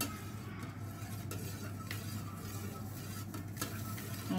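Yeast being stirred into milk for homemade pizza dough, a faint, steady swishing and light scraping of a utensil in a bowl that continues throughout with no voices.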